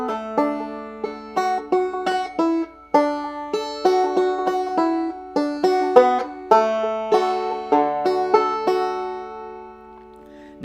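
Banjo played in two-finger thumb lead style, plucked notes ringing out clearly in a bright, bouncy melody with steady picking rhythm, close and solo with no voices.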